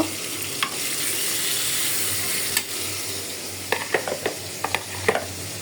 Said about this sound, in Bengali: আমি কিন্তু হলুদ আর লবণ মাখায়া মাছটা এখন বেজে নিব